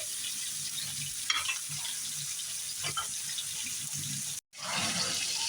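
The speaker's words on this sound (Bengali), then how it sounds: "মাংসগুলো দিয়েছি এখন ভালো করে কষিয়ে নেব মাংসগুলো" Chicken pieces stir-fried with spices and a little water in a pan for a homestyle curry give a steady close sizzle, with scraping stirs around one and three seconds and a brief cut near the end.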